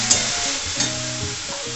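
Masala with grated coconut sizzling steadily in a pan as it is stirred for a Bengali pointed gourd curry, a continuous close frying hiss with a few soft scraping strokes of the spoon and no talking.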